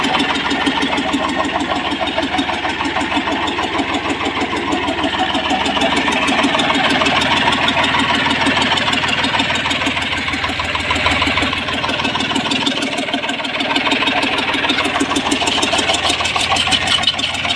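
A farm tractor, restarted after sitting unused for five years, runs at a rough, knocking idle close by, its loud chugging diesel beat steady with a brief dip in the low rumble near the end.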